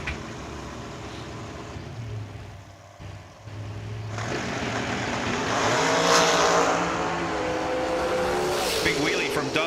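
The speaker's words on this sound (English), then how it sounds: "Big wheelie from Dustin Long" Drag race cars launch hard down the strip at a racing event, a loud rising roar of engines and tires building over several seconds, with an announcer speaking over the noise.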